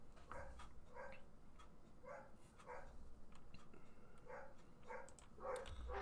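Dogs barking indoors, somewhat distant and faint: a series of repeated, evenly spaced barks over a steady background hum, occasionally doubling up as the barking continues.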